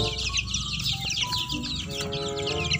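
Chickens cluck around a yard where young chicks are kept, with steady overlapping clucks and chirps close by and a faint tonal squeak weaving through.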